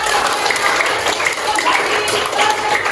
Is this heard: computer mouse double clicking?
no